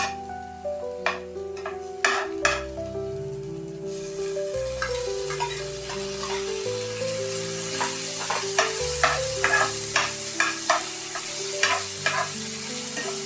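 Chopped onions and tomatoes sizzle in a hot pan while a spoon scrapes and stirs them in a steady rhythm of sharp clicks, close and clear, with a continuous frying hiss underneath and no talking.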